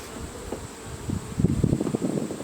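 Honeybees buzz around scattered hive boxes outdoors, a soft, uneven drone that swells and fades as individual bees pass near, rising toward the middle and staying faint overall.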